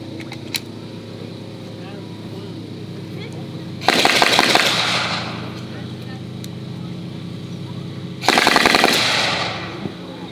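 A machine gun firing full-auto bursts outdoors at a historic military vehicle demonstration, two loud rattling bursts of roughly a second each, spaced a few seconds apart over a low engine rumble.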